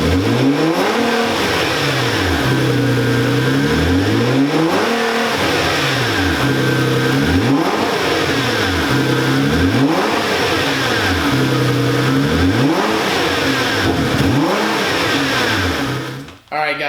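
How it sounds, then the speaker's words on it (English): A Nissan GT-R R35 engine with stock blow-off valves is revved repeatedly, roughly six rising-and-falling sweeps in a steady rhythm, loud and close, with a brief cutoff at the very end. "let's just hear a quick video on how it sounds with the stock blow-off valves"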